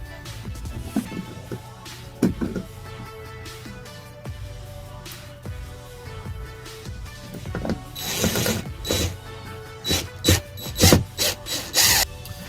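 Screw gun driving screws to mount a 12 volt LED dome light in a boat or RV, with bursts of ratcheting whirr and clicks that grow louder and more frequent toward the end, heard close up without talk.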